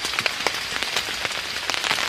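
Rain falls outdoors at night, a steady patter with sharp individual drops tapping close by on a hard surface, and nobody speaks.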